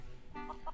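A chicken in the video game Mini World gives a couple of short, faint clucks in quick succession over a low background murmur.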